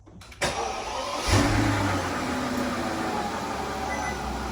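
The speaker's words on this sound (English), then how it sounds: "let's listen to this engine." A Mercedes S600 W221 V12 cranks and catches, then settles into a smooth, quiet, steady idle heard up close with a soft even hum.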